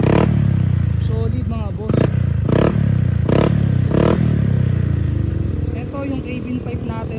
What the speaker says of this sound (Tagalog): Ito yung Kevin 5 natin mga boss, talagang pumapunit din to, lalo na sa high RPM mga boss